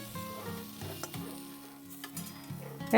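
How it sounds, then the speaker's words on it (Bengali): Sliced eggplant fries in a pan on a gas stove, a faint, quiet sizzle broken by a few light stirring taps and clinks, with no voices. "বেগুনগুলোকে কেটে ভেজে নিচ্ছি।"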